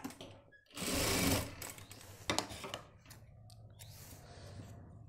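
Sewing machine stitching a shirt at close range, one brief loud whirring burst followed by clicks and lighter mechanical handling noises, with no talking.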